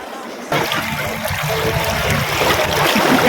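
Water surges and churns loudly after a brief quieter moment, a continuous rushing wash of waves close by, swelling slightly toward the end.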